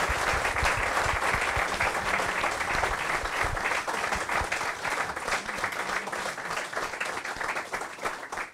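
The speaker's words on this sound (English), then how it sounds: "Let's give them a big round of applause for being up there Wednesday night." A room of football supporters at a Bury FC fan forum applauds Dave McNabb and Tim Lees, with thick, continuous clapping that holds strong, then thins slightly toward the end.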